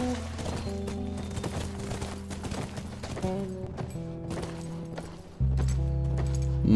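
Horse hooves clip-clop steadily while riding in the video game The Last of Us. The even, fairly close hoofbeats sound over a constant low tonal background, and near the end a louder low drone comes in.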